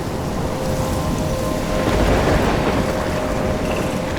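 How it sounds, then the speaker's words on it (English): A thunderstorm in the video game Life is Strange, with steady heavy rain pouring down and a deep rolling thunder rumble swelling in the middle, loud and continuous. "I'm trapped in a storm?"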